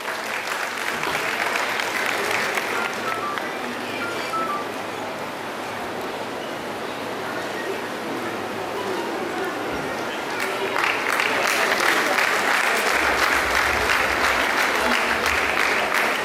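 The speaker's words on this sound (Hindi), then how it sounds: "KK गुप्ता साहब का जोरदार तालियां" Audience applause at an Agrawal community award ceremony honouring achievers in 2025, steady sustained clapping from a large crowd that swells louder near the end, with faint voices underneath.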